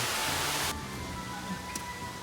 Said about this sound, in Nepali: झरना